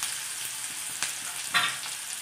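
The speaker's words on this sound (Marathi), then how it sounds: "तेल गरम झालेले आहे, मी मोहरी टाकून घेते।" Mustard seeds and chopped onion frying in hot oil for a cauliflower stalk vegetable dish, a steady close sizzle with a couple of brief crackling bursts, no voices.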